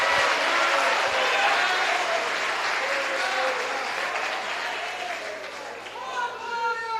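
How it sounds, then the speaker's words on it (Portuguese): A church congregation claps during a worship service, a broad wash of applause that slowly fades and is joined by voices and a held tone toward the end. "Aplauda o Senhor da glória."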